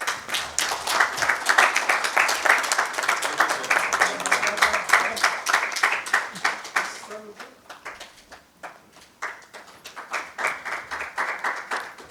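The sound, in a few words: audience applause at a corporate ceremony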